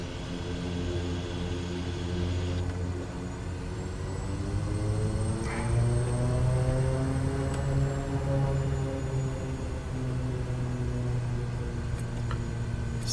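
A Kodiak single-engine propeller plane powering up for takeoff in a flight simulator, a steady loud droning hum with rising engine tones throughout and no talking.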